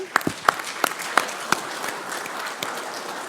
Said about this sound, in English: let's give everyone a round of applause again